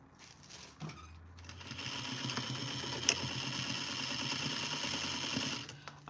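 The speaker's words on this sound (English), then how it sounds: "Now I'm sewing the shoulders together" A sewing machine joins the shoulder seams of a duster at a 5/8 inch seam allowance, starting after a short pause and then running in a steady, close, continuous whir.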